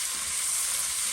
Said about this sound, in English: while the onions and bacon and garlic is cooking